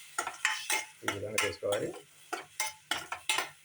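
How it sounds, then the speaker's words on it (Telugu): A spoon stirs onion and tomato frying in oil in a pan, with repeated scraping clinks and brief sizzling between them. Nearby speech comes in short bursts over the stirring. "కొంచెం ఒక స్పూన్ తీసుకొని చెంచాగా తీసుకొని కొంచెం కలుపుకోవాలి, ఫ్రై చేసుకోవాలి కదా"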